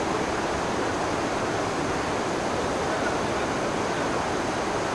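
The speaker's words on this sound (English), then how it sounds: "the river just there is raging, so there's nothing I can do about the background noise." A river swollen and raging after a typhoon roars as a dense, constant wash of rushing water, loud and unbroken throughout with no other sounds standing out.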